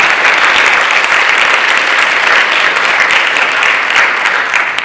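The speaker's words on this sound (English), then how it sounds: "if you could give them a round of applause, I'd appreciate it." A dense, loud round of audience applause for student STEM capstone project teams, sustained evenly from start to finish with many hands clapping together.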